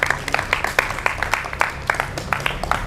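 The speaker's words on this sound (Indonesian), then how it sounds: "Beri tepuk tangan." A small group claps in a classroom setting, a loose run of sharp, moderately loud hand claps over about three seconds with no talk on top.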